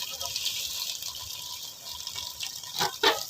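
Water is drained off eggs boiled at a hot spring, a soft trickle and splash of liquid pouring out, with a couple of louder gushes near the end; a voice talks faintly underneath.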